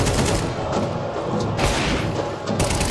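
Counter-Strike 2 match with AWP sniper rifle shots among dense, continuous in-game gunfire and thuds, loud and busy throughout with several sharp bursts standing out.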